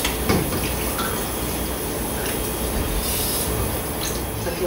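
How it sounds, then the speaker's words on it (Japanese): Running tap water pours steadily as raw fish milt (shirako) is rinsed of blood, a loud, continuous broadband rush filling the whole stretch without any speech. "水洗いします"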